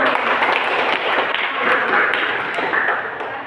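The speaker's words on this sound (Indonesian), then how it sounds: "Kasih tepuk tangan dulu" A classroom group at an Indonesian teacher-training lesson claps together in a dense, fairly loud burst of applause that tapers slightly toward the end.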